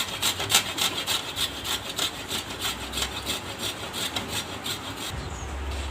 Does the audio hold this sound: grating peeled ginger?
yes